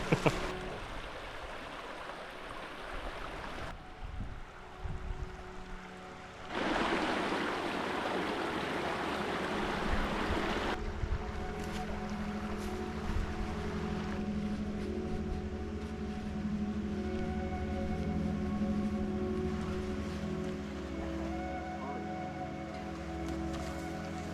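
Creek water flows steadily along Red Creek in the Dolly Sods backcountry, a continuous broadband rush heard close and fairly loud, with some brief handling noise early on.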